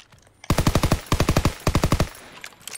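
Machine gun fire in a WW2 video game comes in three sharp, loud bursts of about six rapid shots each, separated by short gaps, followed by faint trailing noise.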